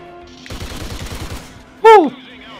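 Ripper assault rifle fire in the shooter game Call of Duty: Ghosts, a rapid burst of about a second with close, rhythmic repeated shots, followed by a short loud voiced exclamation.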